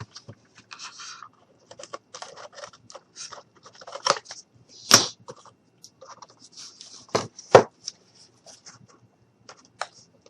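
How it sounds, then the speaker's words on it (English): Scissors trim small pieces of paper for a mini truck craft, giving sparse, quiet snips and a few sharper cuts with light scratching of paper in between, close by. "And there's a little bit that I can trim here."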